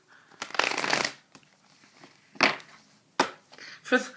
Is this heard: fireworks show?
no